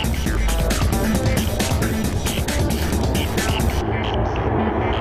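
An Airbus A380 airliner on final descent roars loudly and steadily, a broad rushing jet noise with crowd commotion mixed in, before the high hiss drops away near the end.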